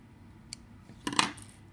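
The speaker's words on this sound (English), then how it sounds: "I'm just going to cut the thread" Scissors snip through sewing thread while making a felt needlebook: a faint tiny click, then one brief, crisp metallic snip, quiet and close, with no talking.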